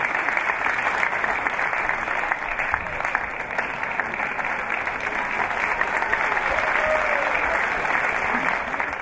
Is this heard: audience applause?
yes